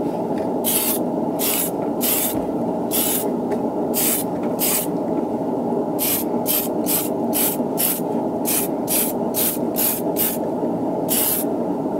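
Spray can paint hissing onto a Gunpla model kit in repeated short bursts, some quick and clustered, over a steady loud background hum, with no voices.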